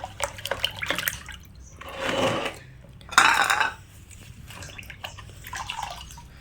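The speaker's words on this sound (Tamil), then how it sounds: "இது வந்து தண்ணியில் லேசாக அலசிக்கிறேன்" A brass plate is rinsed in water, with splashing and sloshing bursts of running water separated by short drips and quieter gaps.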